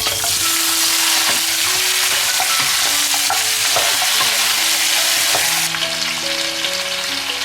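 Rock sugar and pig trotters stir-fried in a wok, giving a loud, steady sizzle with scraping stir strokes throughout, alone without talk.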